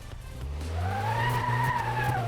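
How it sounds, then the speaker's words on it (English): A rising, sustained high-pitched turbocharger whine climbs over a loud engine drone as a car accelerates, steady and close. "You hear that turbo whining?"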